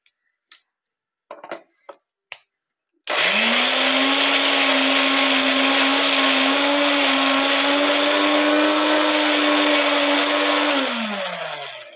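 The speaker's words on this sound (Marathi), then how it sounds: "हे पण आपल्याला थोडंसं जाडसर बारीक करून घ्यायचे." A mixer grinder coarsely grinds chopped green chillies, ginger and garlic for pickle, a loud steady whirring hum lasting about eight seconds before winding down, after a few light clinks of the jar being set up.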